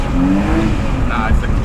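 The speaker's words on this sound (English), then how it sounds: "I think it's not the clutch spinning, it's the wheels spinning." Tyres spin on a BMW E46 drift car, a loud continuous engine roar and wheelspin heard close up with no break, partly under a person talking.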